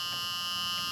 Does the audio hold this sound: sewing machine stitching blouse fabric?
no